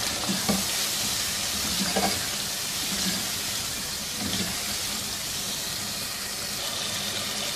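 A spoon stirs aloo gosht curry with fried potatoes mixed into the masala in a pot, scraping with a few soft knocks over a steady sizzle.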